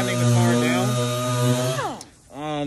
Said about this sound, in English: He's sanding the car down.